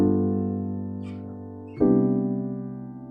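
Jazz piano sounds rootless chord voicings, a sustained crunchy chord fading, a few faint soft noises, then a second chord struck and left ringing, close and alone.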